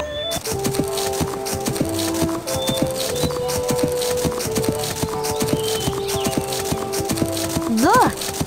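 A horse's hooves trot in a steady clip-clop rhythm in the Barbie Riding Club video game, running continuously under light background music, with a brief whinny-like sweep near the end.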